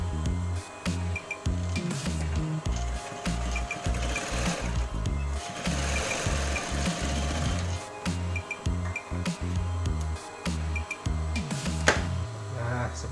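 Sewing machine stitching a pocket lining to the inner pocket piece, running steadily and close for the whole stretch with a continuous mechanical whir and rapid needle rhythm, no talking.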